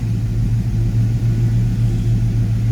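A 1990 Ford Mustang GT with a stock 302 engine, 70mm throttle body and 19-pound injectors, idling cold: a steady, loud, close low-pitched rumble with an even throb and no revving.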